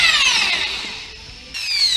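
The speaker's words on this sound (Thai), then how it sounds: "ช่างก็จะใช้สว่านปั่นให้เนื้อมันข้นเหลวค่ะ" An electric drill with a paddle spins in a bucket, mixing wall skim coat plaster with water into a thick paste: a loud, whining motor that dips in pitch as it loads, eases off, then revs up again.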